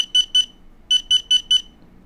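DJI Spark remote controller beeping during a firmware update: two short, sharp electronic beeps, a pause, then four more in a quick even row, close and clear over near silence.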